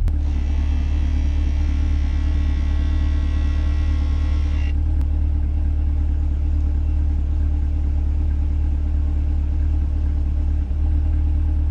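A C8 Corvette's front end lift raising, heard from inside the car as a whirring mechanical tone that runs for several seconds over a steady low engine rumble, then stops while the idle continues.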